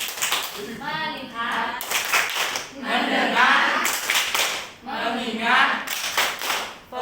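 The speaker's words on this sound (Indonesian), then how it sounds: "Kita tepuk fokus dulu." Rhythmic hand claps in short bursts are mixed with a group of children chanting in unison in a classroom, loud and close.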